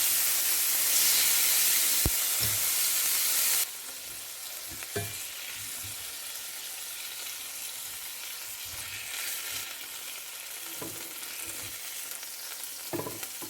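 Chicken frying in a cast iron pan, a continuous dense sizzle and hiss that is louder at first and then settles, with occasional small pops and utensil knocks and no speech.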